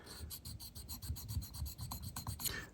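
A hand file rasps back and forth over a small burr on the inside of an Albrecht drill chuck jaw, making quick, even strokes close up with no voices.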